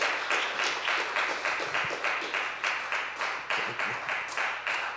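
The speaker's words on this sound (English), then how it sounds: "Brandon, a round of applause." A live audience gives a round of applause for Brandon Lamar at a community conversation event. The clapping is steady and moderately loud, with a slightly rhythmic pulse that lasts several seconds and has no talk over it.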